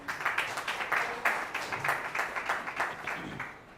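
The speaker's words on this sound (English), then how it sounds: "Please once again welcome Mrs. Smita Jaikar with a big round of applause" An audience applauds a speaker after a spirituality talk, a steady burst of many hands clapping in an even rhythm, moderately loud and fairly close, continuing for several seconds without speech.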